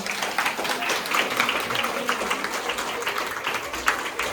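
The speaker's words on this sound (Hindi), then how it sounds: "हल्की फुल्की ताली बजा दो मेरे ठाकुर के लिए" Steady, light clapping from an audience at a Shrimad Bhagavat Katha religious gathering runs through the whole stretch, fairly soft and even, with a few louder claps.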